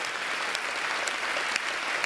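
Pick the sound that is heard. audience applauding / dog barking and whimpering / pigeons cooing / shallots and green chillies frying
audience applauding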